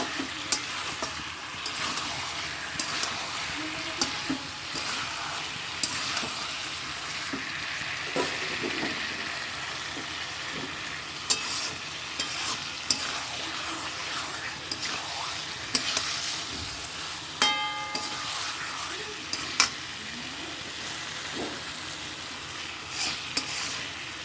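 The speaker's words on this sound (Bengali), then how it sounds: "ডিমটা দিয়ে কষিয়ে নিই" Egg frying and being stirred in a pan, a steady sizzle broken by repeated scrapes and taps of a spatula over about twenty-four seconds, close by and with no talk.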